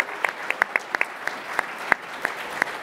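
Sparse audience applause at a live computing history talk, a small group clapping in distinct, scattered claps with a soft room background between them.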